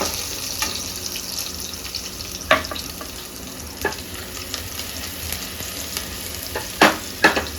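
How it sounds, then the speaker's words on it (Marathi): Garlic and green chilies frying in a pan for a spring onion sabzi, a soft steady sizzle with occasional louder stirring clinks and scrapes, no talking. "मग आधी लसूण टाकायचं कधी पण आधी लसूण टाकायचं लसूण थोडा होत आला की मग हिरवी मिरची टाकायची"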